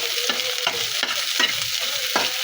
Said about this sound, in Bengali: মিডিয়াম সাইজের 2টা পেঁয়াজ কুচি, 6টা কাঁচামরিচ নাড়িয়ে 1 মিনিট ভেজে নেব।